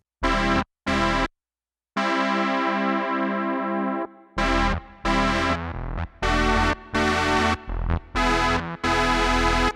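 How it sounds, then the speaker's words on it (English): An analog synth plays through a JC-120-style amp's reverb, sounding sustained, heavily processed chords in short bursts with a few clean gaps, loud and alone. "we do have a great sounding reverb, slightly different than the original JC-120 spring reverb"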